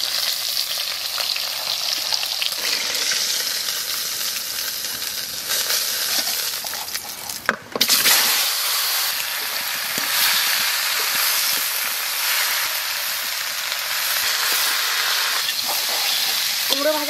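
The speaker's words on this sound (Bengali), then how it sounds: "কুমড়ো ভাজা হয়ে গেছে" Farm-fresh pumpkin frying in a pan gives a loud, constant hissing sizzle that runs almost the whole time, with a brief dip partway through.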